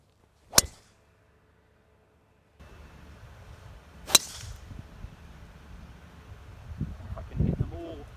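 Two sharp, crisp golf club strikes on golf balls during practice iron or driver swings, the first isolated in silence and the second about three and a half seconds later over outdoor background noise and rustling.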